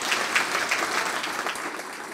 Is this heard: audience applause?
yes